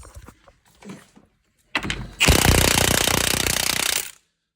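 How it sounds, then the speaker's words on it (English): A pneumatic impact wrench hammers loudly on a front strut bolt of a 2005-2012 Toyota RAV4 for about two seconds in one steady rattling burst, after a few quieter clanks and handling noises. "it should start spinning with the impact now"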